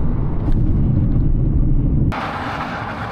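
A 150 PS Cupra Leon 1.5 eTSI mild hybrid brakes hard during a brake test, a loud rumbling road and engine drone inside the car that shifts suddenly to a brighter hiss partway through.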